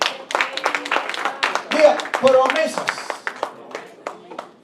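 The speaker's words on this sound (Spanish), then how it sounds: "Denle ese aplauso al Señor." A church congregation claps together during a Sunday sermon, a dense burst of applause under a preacher's loud speaking voice.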